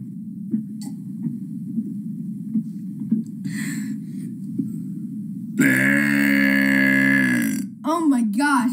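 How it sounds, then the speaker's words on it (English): A long, loud, deep burp drawn out for about two seconds after some quiet low rumbling and gulping, followed by a short wobbling burp at the end. "I'm just going to keep burping over and over"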